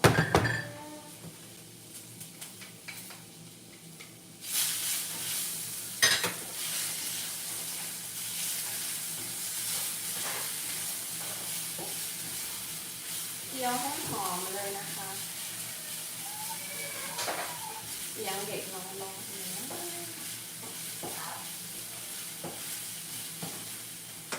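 Pounded garlic hits a hot pan and bursts into sizzling after a quiet start, frying steadily with occasional clatters and scraping from a spoon or utensil, fairly close and moderate in level.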